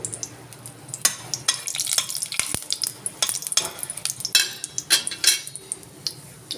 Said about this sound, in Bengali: এবার তেল গরম করে নিয়ে এর মধ্যে দুটো এলাচ ফুটিয়ে, দারচিনি, লবঙ্গ, গোলমরিচ, একটা শুকনো লঙ্কা দিয়ে দেব ফোড়নের জন্য।